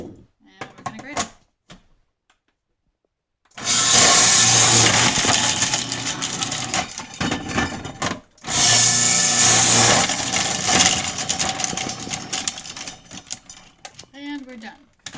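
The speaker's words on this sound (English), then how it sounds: "I have a grater in there. So the beet is peeled, and I'm just going to fit them in here. I think I can do that. And we're going to grate them." A food processor fitted with a grating disc shreds peeled beets, a loud, dense grinding whir that runs steadily in two long bursts with a short break between, followed by brief quiet handling sounds.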